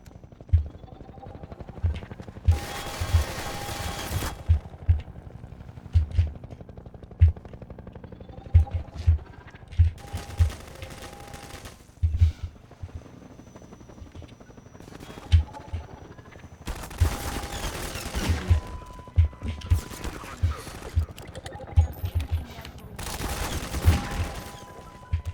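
Repeated magnum revolver gunshots in Half-Life 2 Episode 2, sharp loud bangs firing in bursts with short pauses and background game rumble, plus several broadband blasts of heavier gunfire.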